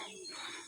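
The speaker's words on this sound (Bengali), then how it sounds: "খুব পাখির ডাক শোনা যায়।" Birds call faintly around a lakeside resort cottage, giving a soft, brief chirp or two against quiet surroundings.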